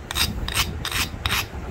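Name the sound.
grinding a flint preform edge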